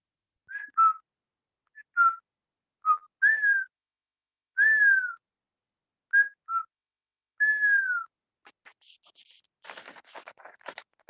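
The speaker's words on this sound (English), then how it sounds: "I finally learned how to whistle like you." A person whistles a short melody during a live poetry reading, sliding through about eight clear, separate notes in an uneven rhythm, followed by a few seconds of soft scratchy rustling.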